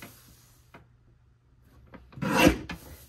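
A paper trimmer blade slices through a sheet of scrapbook paper, giving one brief, close rasping cut after a few faint soft handling sounds.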